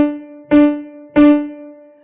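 A single piano key, D, is struck twice in even quarter-note time, each note sounding with a sharp attack and then a sustained, decaying ring, close and alone.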